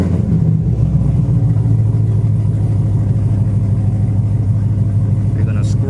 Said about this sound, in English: So start the vehicle up.